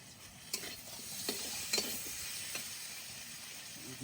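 River fish frying in a pan, with a steady close sizzle and hiss broken by a few sharp stirring clicks and scrapes, no voices.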